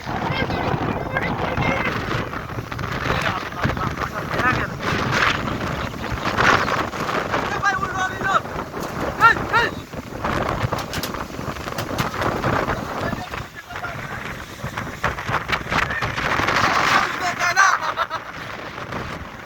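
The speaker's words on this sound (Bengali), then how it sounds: "অনেক অনেক অনেক বাতাস।" Fierce gusts of a rainless windstorm roar and thump against a nearby microphone in uneven surges, with excited voices talking intermittently through the rushing noise.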